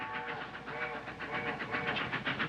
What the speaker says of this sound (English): It's Grandpa's train. It's taking him home. It's his signal